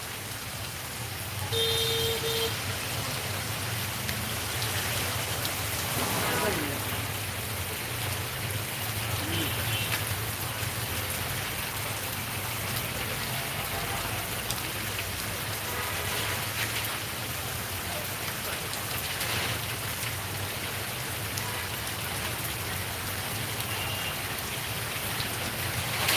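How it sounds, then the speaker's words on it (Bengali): Heavy night rain falls steadily in Sylhet, a dense, even hiss of drops on surfaces that continues unbroken from start to finish with no voices. "এই যে বৃষ্টি আসছে"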